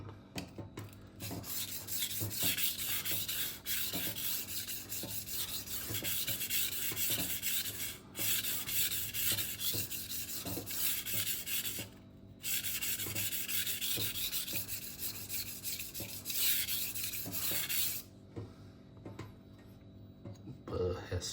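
A Fiskars chef knife is honed on a double-sided 400/1000 whetstone with continuous close scraping strokes, broken by a few brief pauses. Nothing else competes with the steady rasp of steel on stone.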